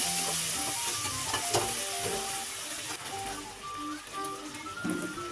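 Boiled chickpeas with ground cumin and coriander frying and being stirred in a pan, a steady close sizzle with scraping clinks and spoon knocks throughout, no voices.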